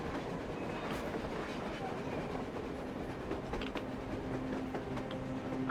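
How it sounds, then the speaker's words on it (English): A train rumbles past in Metro Exodus, a steady low roar with faint rail clatter and mechanical squeals, constant and fairly distant. "A train! A damn train on the surface!"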